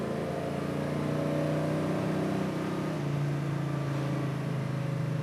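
A 1969 Chevrolet Camaro with a 402 engine accelerates steadily, its engine drone loud and continuous with a rising harmonic tone near the listener throughout.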